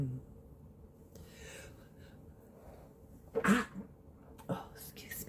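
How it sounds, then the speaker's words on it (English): A single sharp human sneeze bursts out close to the microphone during a quiet indoor tarot reading, with a smaller breathy catch or second sneeze about a second later against soft room noise. "I sneezed if you heard that."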